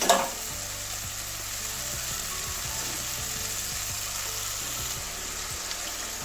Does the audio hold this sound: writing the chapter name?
no